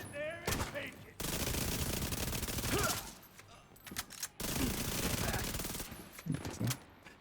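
Sustained submachine gun fire from an SMG Striker in a video game, dense rapid bursts filling most of the span with a short break in the middle, loud and close, with faint voices underneath.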